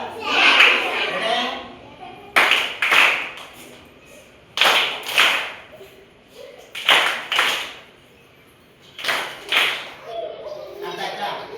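Children perform a dance clapping game, bursts of sharp hand claps arriving in rhythmic clusters of several beats, separated by pauses, with children's voices talking and chanting between them.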